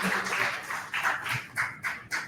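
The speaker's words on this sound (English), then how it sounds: "Please give him a big round of applause." Applause from a small meetup audience, a few bursts of clapping that rise and fade, then scattered separate claps, fairly close and moderate in volume.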